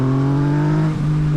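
A Yamaha MT-09 motorcycle in its aggressive A riding mode, engine droning loud and close with a strong steady tone and a brief throttle blip near the end.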